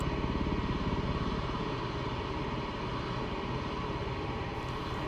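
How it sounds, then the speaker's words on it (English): Continuous loud engine drone of an MV-22 Osprey tiltrotor in aeroplane mode in MSFS 2020 during an engine failure, a steady pulsing roar with a fast propeller throb that holds without pause. "an engine fails."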